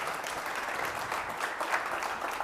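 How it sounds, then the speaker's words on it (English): Audience applause for a presenter at a university tech venture pitch competition final, a brief, even stretch of steady clapping from a crowd. "let's give Chris a big round of applause"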